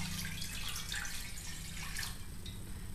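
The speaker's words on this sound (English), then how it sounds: "Just going to pour some water in." Water poured into a pan during scallop sauce preparation, a steady splashing trickle lasting about three seconds, close by and moderately loud with no talking.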